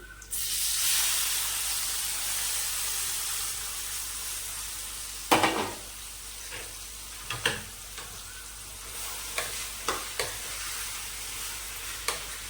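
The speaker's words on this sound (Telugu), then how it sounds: "తాలింపు రెడీ అయిందని చట్నీ వేసేస్తున్నాను" Cucumber and peanut chutney tipped into hot tempering oil gives a steady hissing sizzle from the start. It slowly fades and is broken by a few sharp clinks of a spoon against the pan, with no talking.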